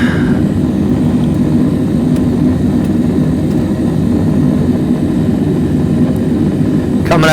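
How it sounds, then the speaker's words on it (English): Aircraft engine noise from a flight simulator game drones loud and steady throughout, a continuous propeller-like hum with a few faint clicks near the end. "I do have to cut those engine noises down."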